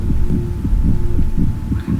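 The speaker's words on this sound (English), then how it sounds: "I can hear a heartbeat." A low, muffled heartbeat throbs steadily in What Remains of Edith Finch, a continuous underwater-like hum beneath a regular rhythm of soft beats.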